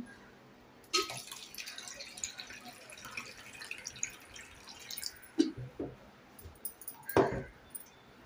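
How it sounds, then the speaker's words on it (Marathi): Water is poured into a pot of washed rice and potatoes, heard as a few close splashes and trickles separated by quiet gaps, with clinking bursts near the middle and end. "आता याच्यामध्ये पाणी घालूया."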